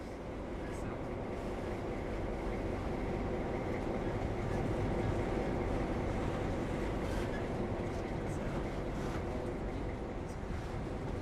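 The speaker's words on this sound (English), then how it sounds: "With that, we have our train running along the track." Train running along rails in an Unreal Engine train system, a continuous dense rolling rumble with steady rail noise throughout, constant in level with no pauses.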